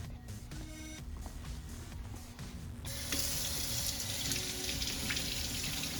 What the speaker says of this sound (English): So first, we're going to wash the potato.